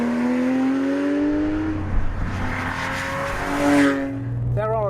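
A Porsche GT3 engine with a manual gearbox revs up and down through several gear changes, rising and falling in pitch, loud and close, with a brief voice near the end.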